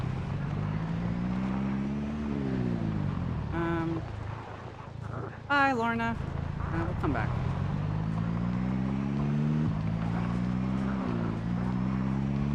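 Car engine drone in the Project Zomboid video game, loud and continuous with the pitch rising and falling as it accelerates, while a person talks briefly over it.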